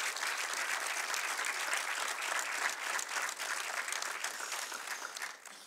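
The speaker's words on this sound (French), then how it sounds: "Merci de vos applaudissements." Audience applause in a festival hall at Séries Mania 2018 for the jury members: a continuous, even wash of many hands clapping, fairly distant and uniform, tapering a little at the very end.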